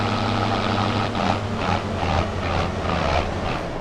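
An old-school tractor engine runs in Farming Simulator 25 with a planter hooked up, a loud steady diesel rumble with a slow rhythmic pulse, heard close up with no talking.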